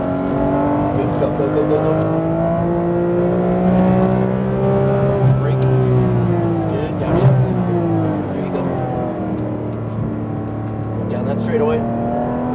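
A Porsche GT3RS accelerating hard on a Speed Vegas race track, the engine note climbing and holding loud and close from inside the car, with a brief shift dip midway and an instructor's voice talking over it.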